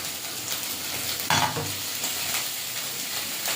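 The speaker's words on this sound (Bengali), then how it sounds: "এবারে জিরে আর ধনে বাটাটা দিয়ে দেবো।" Fried onion paste sizzles in a pan as cumin and coriander paste is added, a steady close hiss with a brief louder burst early on and no talking.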